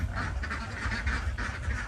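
Several ducks quack continuously in a noisy chorus, close by and fairly loud, with no voices.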